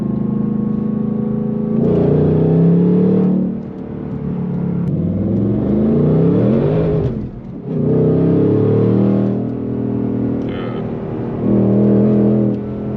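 A supercharged 2024 Ford Mustang Dark Horse with a Whipple supercharger revs hard while driving, rising loud engine pulls through several gear changes with brief dips between them, close and dominant.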